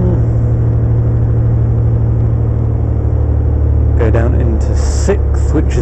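Engine of an old vehicle climbing a steep hill in low gear, a loud, steady, labouring drone with a deep rumble throughout, and someone talking over it in the last couple of seconds.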